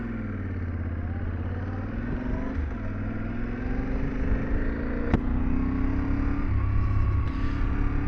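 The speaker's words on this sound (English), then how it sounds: "it's time for the Twisty Mountain sport riding test on the Tenere 700" A Yamaha Tenere 700 motorcycle rides a twisty mountain road, its engine droning steadily up close with gradual pitch rises under acceleration, wind rush underneath, and one sharp click midway.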